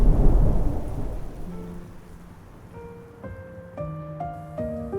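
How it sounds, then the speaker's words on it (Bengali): Heavy rain pours steadily with a deep rumble of thunder rolling in at the start, then fading as the downpour continues alone, with faint tonal music rising beneath it toward the end. "এক প্রবল বৃষ্টি ভেজা রাতে"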